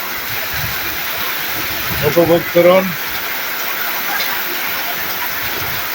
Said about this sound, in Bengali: বন ভাসিয়ে নিচ্ছে, বহুত বৃষ্টি হচ্ছে